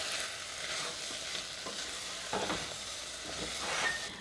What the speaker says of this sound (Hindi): दलिया को भी कुछ सेकंड हम भुनेंगे